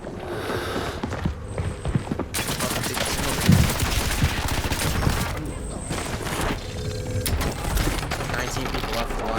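A nail gun fires in Call of Duty on Rebirth Island. Rapid, sharp bursts of gunfire crackle through the match, mixed with other game noise, while a player talks over it.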